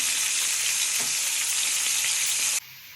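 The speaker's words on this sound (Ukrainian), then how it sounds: "Гарно розігріли пательню і обсмажуємо карасі до золотистої скоринки." Crucian carp fry in a well-heated pan, a loud, dense, close sizzle that runs evenly and then cuts off abruptly near the end.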